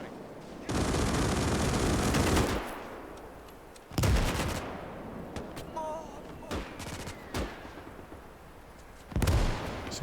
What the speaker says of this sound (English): All those mini Maxim guns.